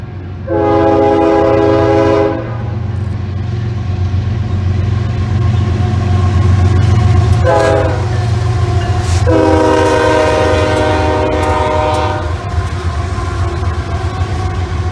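A passing train sounds a K5HL air horn in three long chords, loud and near, over a steady rumble of rolling wheels and engine.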